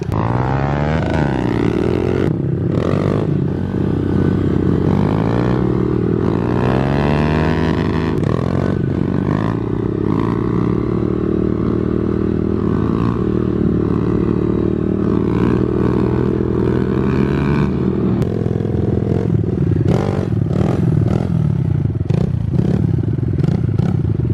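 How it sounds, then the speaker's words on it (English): A Honda CRF dirt bike engine revving hard during wheelies, with a loud, close, continuous rising and falling drone and a few clattering thumps and scrapes along the way. "we're going to do some little CRF wheelies"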